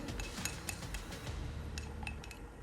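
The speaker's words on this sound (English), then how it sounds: "I'm gonna stir it very well" Metal spoon clinking and scraping against a container while black penetrating oil stain is mixed, a steady run of light taps and clinks at close range with no voices.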